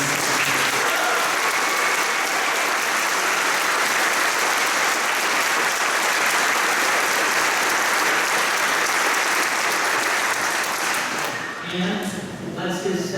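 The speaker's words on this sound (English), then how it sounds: "let's give the candidates one more round of applause" A debate audience claps loudly and steadily for about eleven seconds, the applause fading as a voice begins speaking.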